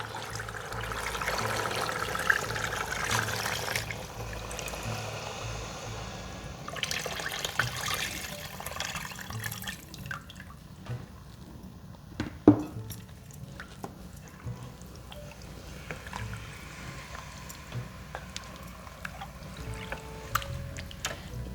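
Water poured from a 2.5 litre jug into a cooking pot for beef nihari, a steady splashing stream over several seconds that thins to sparse drips and small clinks in a quiet kitchen.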